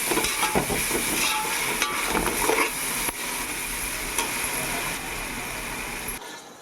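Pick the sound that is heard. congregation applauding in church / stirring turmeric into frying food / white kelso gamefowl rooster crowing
stirring turmeric into frying food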